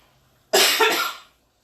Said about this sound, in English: More coughing because I took my lozenge out.